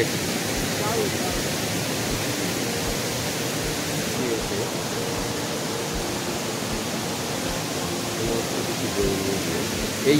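Monsoon rainwater flows down a road in Netarhat, a steady broad rushing wash close by that runs without a break, with a voice speaking over it.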